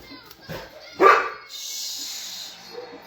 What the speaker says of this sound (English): Why are you barking? The dogs are annoying.